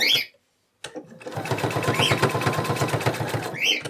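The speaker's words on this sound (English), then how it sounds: "It's a built-in walking foot that will evenly feed my fabric." A home sewing machine with a built-in walking foot stitching through plush fabric, a rapid steady mechanical chatter running close and loud for about three seconds after a short pause.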